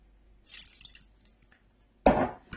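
Lime juice squeezed into a salad dressing, faint wet drips and squishes early on, then a louder splashing pour near the end, with no one talking.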